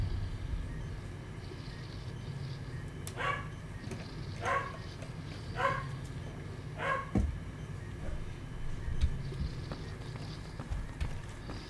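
Puppies barking in a row of four short yips spaced about a second apart, moderately close, over a low background hum, with no talking.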